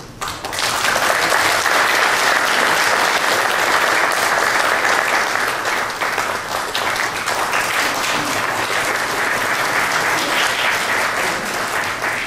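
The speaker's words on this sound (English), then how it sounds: "So I request you to give her one round of applause." Sustained audience applause fills a large hall at a Korean War anniversary ceremony, steady dense clapping continuing for the whole stretch without letting up.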